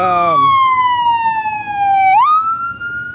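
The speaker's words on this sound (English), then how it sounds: "there's the ambulance coming" An ambulance siren wails loud and close on a city street, a sweeping tone that falls slowly then jumps back up sharply.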